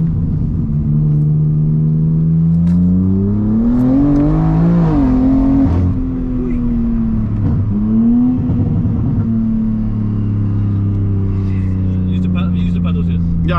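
A BMW M3 accelerating hard through gear changes, heard from the cabin as a loud engine drone rising in pitch, dipping at each shift and climbing again, with people talking over it.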